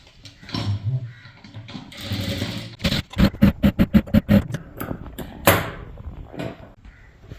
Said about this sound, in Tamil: இதுக்கு மேலே இன்னொரு தையல் போட்டுடலாம்